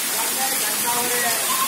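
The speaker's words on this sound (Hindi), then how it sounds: "ये देखो अच्छा खासा पानी पड़ रहा है हमारी तरफ" Heavy rain pours down on a farming village, a dense and steady hiss of water close at hand that fills the whole moment.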